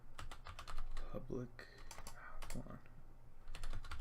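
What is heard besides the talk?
typing on a new computer keyboard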